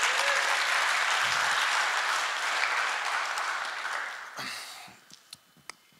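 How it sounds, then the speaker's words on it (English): Conference audience applause at the POLYCON18 event, a thick, steady roar of clapping that fades out toward the end, leaving a few isolated claps in a quieter room. "a quick round of applause for Simon"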